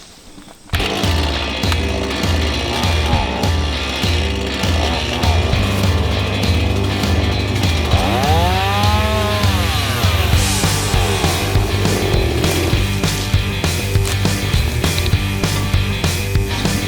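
A chainsaw trims branches from a tree beside a clover field to clear room for hanging a hunting tree stand. The engine runs loud and close without a break and rises and falls as it revs.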